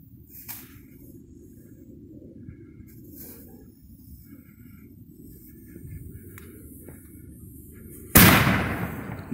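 New Excalibur artillery shell fireworks, fired sleeve against sleeve, giving distant launch thumps and crackling bursts over a steady low outdoor rumble, with one loud sharp bang near the end.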